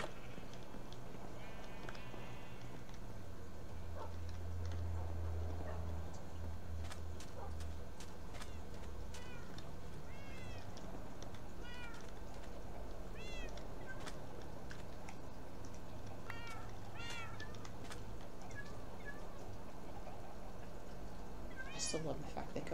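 A cat in the Minecraft video game meows repeatedly, with several short high meows scattered through the stretch, alongside game bird chirps and a low background hum, while a voice talks at times.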